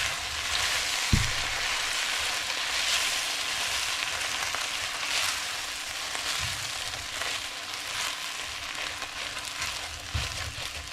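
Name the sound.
stirring food for a rice meal in a pan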